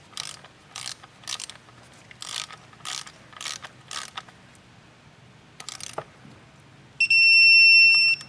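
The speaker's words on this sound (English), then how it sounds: "I can grab our torque wrench, and our torque spec today is" A ratcheting torque wrench tightens a spark plug on a 2015-2023 Ford Edge 2.0L engine, giving a series of short, close clicking bursts in uneven rhythm, followed by a loud electronic beep at the end.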